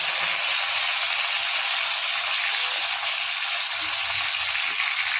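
Pieces of fish fry in hot oil with a loud, continuous hiss and crackle that holds steady throughout.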